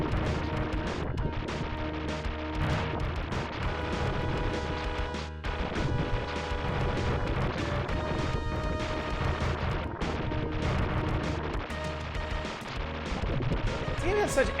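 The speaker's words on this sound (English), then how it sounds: "Everything in this game just sounds so satisfying. All the shooting and explosions and everything." Constant shooting and explosions from the aerial shooter video game U.N. Squadron on the Super Nintendo fill the clip, with dense repeated blasts and booms over game music and a voice talking.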